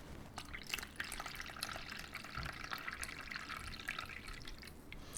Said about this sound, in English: now we can go ahead and add some water into this pan to make our water